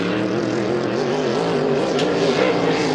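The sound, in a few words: racing hydroplane boat engine at full throttle, Valleyfield Grand Prix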